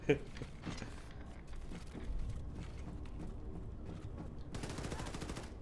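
Gunfire in the shooter Wolfenstein II, bursts of rapid automatic shots near the start and again toward the end, crackling and fairly loud against the game's background, with a voice talking over parts of it.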